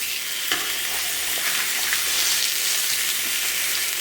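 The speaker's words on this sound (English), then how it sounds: "Now we're just going to sear the pork chops on each side" Pork chops sear in a hot pan with a loud, steady sizzle and crackle that continues throughout, with no voices.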